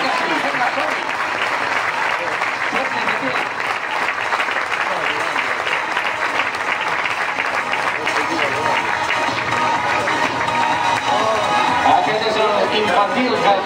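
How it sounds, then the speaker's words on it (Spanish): Crowd applause for a youth football club presentation, loud and sustained clapping that fills the room without a break, with a faint murmur of voices blended into it. "Un aplaudiment per l'Ezequiel, clar que sí!"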